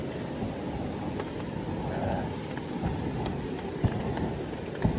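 Heavy rain pouring down in the rainy season, a dense steady patter over a low rumble, with a couple of sharper drips or knocks near the end and no speech.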